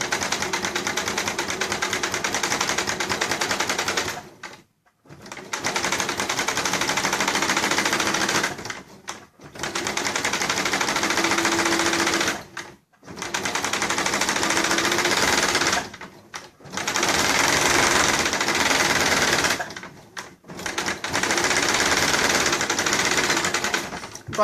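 Sewing machine stitching an invisible zipper runs in five long, loud, steady buzzing bursts, each several seconds long, separated by brief silent pauses, close up with no talking.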